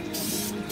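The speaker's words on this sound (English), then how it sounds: "I want you to see me spraying this." A Krylon spray paint can sprays a continuous, even hiss of mist onto an N scale model, close up and on its own.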